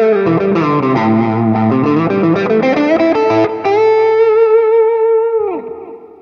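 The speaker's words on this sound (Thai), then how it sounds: "ต่อไปก็เป็นเสียงโอเวอร์ไดนะครับเป็นแบบนี้เลย" Electric guitar through a Tank G multi-effects unit's overdrive, playing a quick riff, then holding a sustained vibrato note that fades out, thick and gritty, loud and close.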